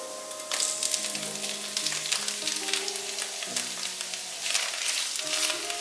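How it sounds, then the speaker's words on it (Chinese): Shiitake mushrooms and minced ginger sizzle and fry in hot oil in a pan, a steady close crackle with occasional stirring, while soft background music plays underneath. "油稍微热了之后，放入姜末， 姜末微微变色之后，放入香菇"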